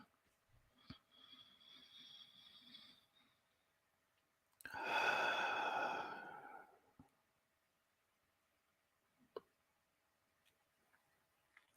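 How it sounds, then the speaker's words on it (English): A person takes a deep audible breath in and out, a loud rushing breath lasting about two seconds after a softer breath, with faint ticks around it in a quiet room. "let's take a deep breath together"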